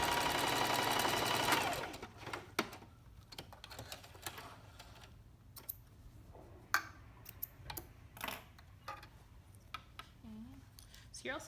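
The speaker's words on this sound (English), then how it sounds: "I'm just gonna stitch on that chalk line" A sewing machine stitching along a chalk line on a garment lining, a short close whirring run at the start, followed by scattered ticks, taps and handling clicks in a quiet room.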